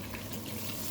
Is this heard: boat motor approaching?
no